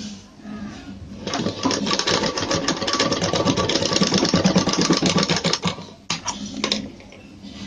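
A sewing machine stitches three dori cords together, running in a fast continuous loud whir for several seconds before stopping, then giving a short restart burst.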